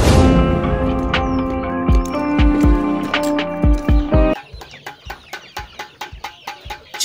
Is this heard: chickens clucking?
yes